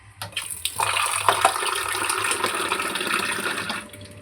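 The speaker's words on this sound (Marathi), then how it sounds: "आता याच्यामध्ये थोडस पाणी ओतून" A splash of water pours into a pan of cooking okra mixed with crushed peanuts, a close, continuous gush lasting a few seconds before tapering off.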